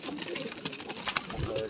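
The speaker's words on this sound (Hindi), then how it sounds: "और ये कबूतरी हमारी इस पर बैठी है अंडों पे।" Pigeons coo softly in a coop where a hen sits on her eggs, with low, throaty burbles close by while someone talks over them.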